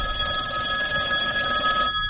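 A telephone rings with a loud, steady electronic trill, close and unbroken, stopping just before the end.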